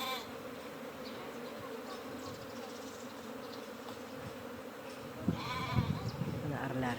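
Honeybees that escaped from their hive swarm outdoors, giving a steady, dense buzzing that runs throughout and thickens near the end.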